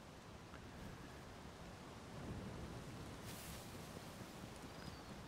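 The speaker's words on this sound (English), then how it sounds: "Are we done with the thunderstorm?" A thunderstorm in Zelda: Tears of the Kingdom brings steady rain hiss and low rumbling thunder, with a brief brighter crack near the middle, all fairly quiet and with no one speaking.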